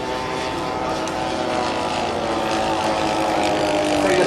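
A model aircraft engine drones steadily overhead at an air show at Blackbush, a continuous buzzing propeller sound that slowly swells louder as the plane draws nearer.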